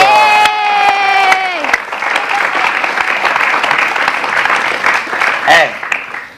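A talk-show studio audience breaks into loud, sustained applause and cheering for a singer, following a brief sung or drawn-out voice at the start.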